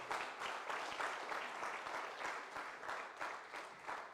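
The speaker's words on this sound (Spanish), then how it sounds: "¿Por qué no le damos un fuerte aplauso al Señor en acción de gracias?" A church congregation claps loudly together during a sermon, giving thanks; dense, steady applause fills the room with a rippling rhythm and no voices on top.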